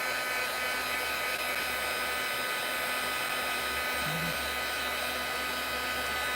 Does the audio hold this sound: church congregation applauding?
no